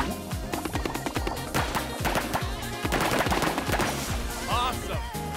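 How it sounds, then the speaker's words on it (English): A foam gun blasts in the FOAMSTARS video game, rattling off rapid rhythmic bursts of shots in quick succession, loud and busy over the game's other sounds. "Now blast that foam."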